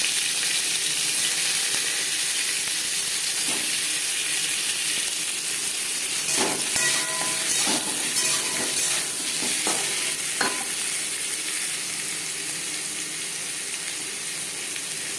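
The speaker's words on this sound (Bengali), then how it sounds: "সবার প্রথমে আলু ভেজে নেব। দিয়ে দিয়েছি সামান্য পরিমাণে 1 চামচ রিফাইন্ড অয়েল।" Potato pieces frying in a spoonful of refined oil in a pan, a steady soft sizzle with a few stirring clatters partway through.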